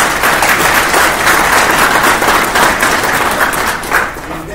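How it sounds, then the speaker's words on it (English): A crowd claps steadily and loudly throughout at a military graduation ceremony, a dense sustained round of applause with no voices standing out. "So give yourself a round of applause."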